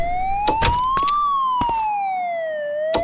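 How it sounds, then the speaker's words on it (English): Police car siren in the video game The Way Home, a loud wailing tone that slowly rises and falls, heard alone with a few sharp bursts of other noise cutting across it. "Oh my god, I am so glad this police car is gonna leave."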